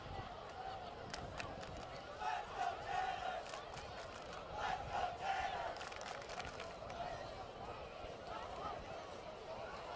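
Spectators at a Burlington high school football game, a distant crowd roar with swelling rhythmic chanting bursts, people talking nearby throughout.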